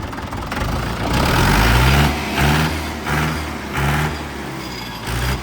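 A heavy diesel engine of a new Indofarm 3055 tractor idles steadily nearby, its low rumble pulsing slightly as the revs rise and fall.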